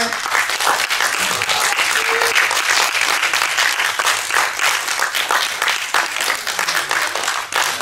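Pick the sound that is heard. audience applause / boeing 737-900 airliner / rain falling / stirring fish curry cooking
audience applause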